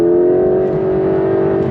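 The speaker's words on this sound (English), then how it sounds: "The sound you hear from that unique engine layout, the flat six with the single turbo" A 2025 Porsche 911 Carrera GTS with a single-turbo flat-six engine, pulling under throttle with a loud, close, sustained drone that holds a steady pitch throughout.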